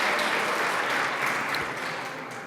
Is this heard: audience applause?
yes